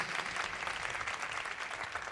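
A church congregation applauds in steady, dense, even clapping that fills the whole moment at moderate volume, with faint voices mixed underneath.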